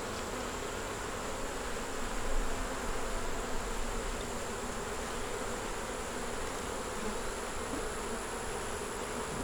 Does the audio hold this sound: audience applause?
no